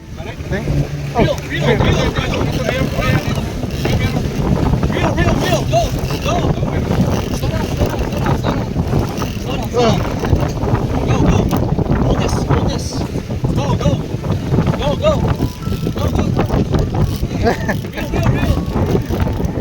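Steady roar of a fast fishing boat's engine and rushing water off Tinian Island, with heavy wind buffeting the microphone throughout; voices are faintly mixed in.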